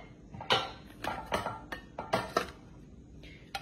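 A metal tiffin box lid holding egg curry is handled with a few sharp clinks and rattles, several distinct knocks spaced about a second apart, close and fairly quiet with no talking.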